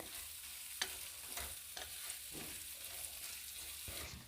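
Potato and tomato pieces sautéing in spices in a pan, a soft continuous sizzle with intermittent spoon scrapes and stirring knocks at close range, no talking.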